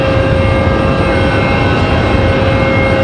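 A WestJet Swoop airliner in pink and white livery, arriving from Calgary at Raleigh-Durham International Airport, gives off a loud, steady roar of jet engines that holds constant throughout.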